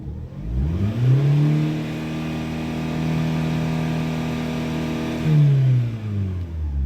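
A car engine is revved up, held at a steady elevated drone below a 4,000 RPM limit for several seconds, then falls back to idle; close and alone.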